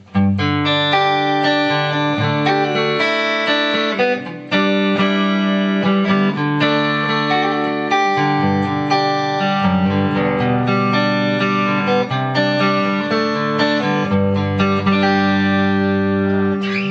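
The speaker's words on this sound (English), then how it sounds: "now with a pick, you get a little bit more attack" Loud electric guitar picked through an amp, sustained chords and notes with bright attack and effects-laden tone, continuous throughout.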